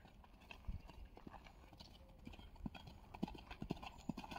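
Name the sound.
horse galloping, hoof clip-clop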